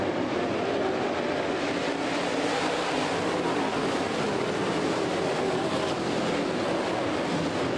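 Super late model stock cars roar in a dense, unbroken wall of engine noise as a Chevrolet SLMS race gets the green flag at Clarksville, loud and sustained with no talk over it.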